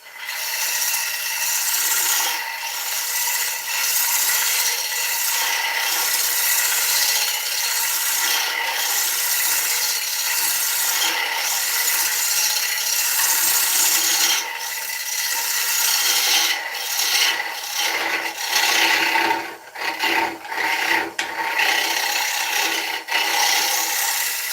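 Bowl gouge cutting green oak on a wood lathe, a steady, continuous scraping rasp with shifting texture that carries loudly through the clip and breaks up briefly near the end.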